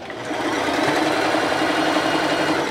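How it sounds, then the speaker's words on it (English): A sewing machine runs in one steady, continuous whirring burst while stitching a piece onto a Crown of Thorns quilt block, close and alone with no talk. "I'm ready to sew my last piece onto my block"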